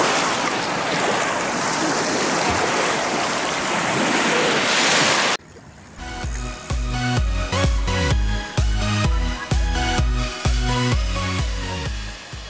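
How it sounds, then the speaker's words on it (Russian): Surf-like waves on the Volga river wash steadily for about five seconds, heard from a cruise ship, then give way abruptly to loud rhythmic music with a strong beat. "У нас тут в течение минуты вон какие уже волны морские"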